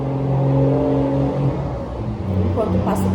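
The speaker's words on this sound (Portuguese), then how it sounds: "Enquanto passa o caminhão, com licença." A truck passes close by on a road, its engine a loud, steady low rumble that shifts in pitch as it goes past, with a voice speaking over it.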